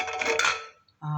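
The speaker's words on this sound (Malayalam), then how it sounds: "കുക്കർ തുറക്കട്ടെ." A pressure cooker lid is opened with a short metallic clatter and scrape, a brief pause, then another close, ringing clank of metal.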